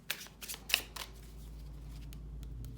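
Mystic Mondays tarot cards being shuffled by hand: quick riffling flicks and a sharp snap near the start, then a steady soft papery rustle, close and fairly quiet, with no talking.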